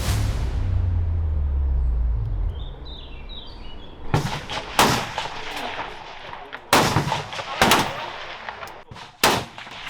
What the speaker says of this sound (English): Competitors at this festival have their own semi-automatics and other weapons